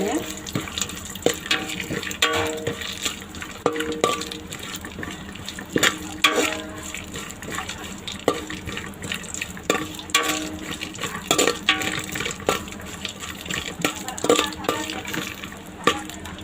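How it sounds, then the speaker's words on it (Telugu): Water poured into a cooking pot after frying cashews and almonds, running steadily with a rushing splash and occasional metallic clatters, close up and continuous throughout. "అదే గిన్నెలో మంచి నీళ్ళు కొంచెం నీళ్ళు పోసుకోవాలి"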